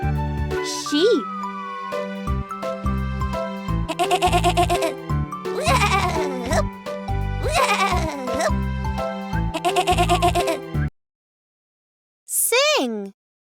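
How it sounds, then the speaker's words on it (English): Sheep bleat repeatedly in a children's alphabet lesson, with several loud wavering calls over a musical backing and one final bleat after a pause. "Sheep."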